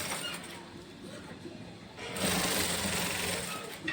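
Sewing machine running steadily while lace is stitched onto the edge of a dupatta, a continuous close mechanical whir that grows louder partway through.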